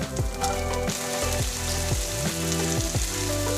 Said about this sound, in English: Now I'm gonna toss in my onions and peppers.